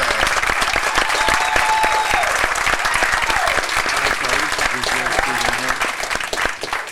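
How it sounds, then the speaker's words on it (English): A Q&A audience applauds guest Carl Marino, star of Homicide Hunter, with loud, continuous clapping from a crowd close by, while a voice speaks over the applause. "Let's give a round of applause for Carl Marino, the star of Homicide Hunter"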